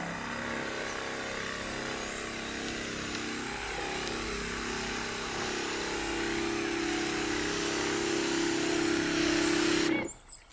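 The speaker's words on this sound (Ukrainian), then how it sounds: "Таким чином працює оприскувач, як бачите, просто включив, нажимаєш, нічого не треба підкачувати" A battery-powered garden sprayer runs continuously while spraying peach trees, a close, steady motorized hum with a faint whine that cuts off abruptly at the end.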